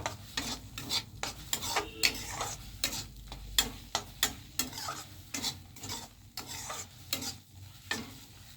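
Taro leaves (kochu shak) being stirred in a pan, a soft rhythmic series of scraping strokes repeating roughly every half second over a faint low sizzle, no talking.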